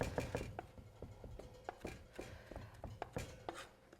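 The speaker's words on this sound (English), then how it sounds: "If it calls for pasted garlic, just take the back of your knife and run it down" Back of a knife scraping and pressing garlic into paste on a cutting board, a quiet run of soft rhythmic taps and rubs repeating for several seconds.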